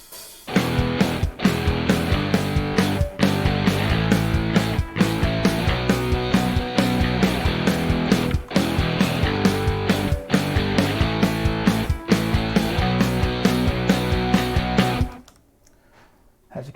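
A drum kit plays a driving, accented rock beat at 135 BPM, locked with a guitar and bass riff, loud and continuous for about fifteen seconds before stopping abruptly.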